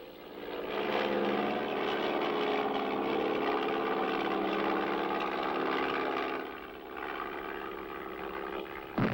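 A Piper Cub light aircraft, a wartime artillery spotter plane over Normandy, drones steadily with a loud, continuous propeller hum that holds for several seconds, then eases slightly near the end.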